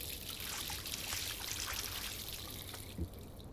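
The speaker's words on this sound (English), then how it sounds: "Last time I wanted to splash some water on my face." Water running and splashed on a face at a sink in the video game Life is Strange, a steady close pouring hiss with a soft splash near the end, alone.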